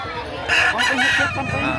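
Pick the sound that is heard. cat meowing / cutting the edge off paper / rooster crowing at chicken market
rooster crowing at chicken market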